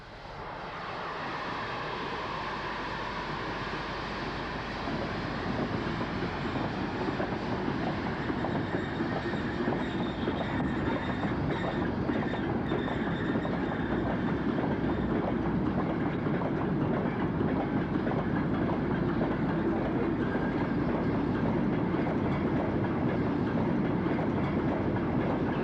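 A heavy steam locomotive, 2-8-0 class number 63968, hauling an ore train rumbles steadily past at close range, a loud continuous roar with rhythmic clanking of wagons building and holding throughout.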